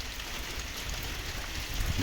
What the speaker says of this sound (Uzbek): Shunaqangi darajada yomg'ir yog'yapti.